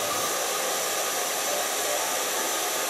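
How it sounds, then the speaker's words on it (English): A handheld hair dryer runs steadily for the full stretch while drying short gray hair with a medium brush, a constant loud broadband whoosh with no pauses and no talking. "drying your hair"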